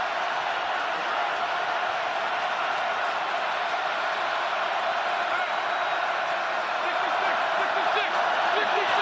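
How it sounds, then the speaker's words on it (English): A steady roar from a stadium crowd fills a Steelers at Chiefs NFL wild card playoff game, a continuous dense wash of noise that holds level throughout with no clear breaks. "Crowd roaring."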